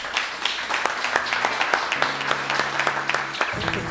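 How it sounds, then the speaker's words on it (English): Audience applause for Philadelphia Fire Department firefighters of Engine 37 at a historic firehouse, steady clapping from a crowd throughout, with a low tonal hum and faint voices underneath near the end. "So let's give them a round of applause."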